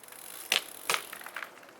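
Clicking from a trike being pedaled backwards, two sharp clicks close together followed by softer, faint ticks.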